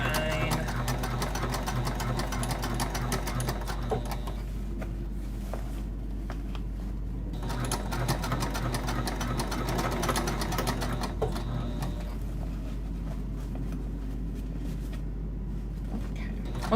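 A sewing machine stitches a bag with a liner, running steadily at close range for the whole stretch with a continuous mechanical whir and rapid needle clatter, easing only briefly now and then.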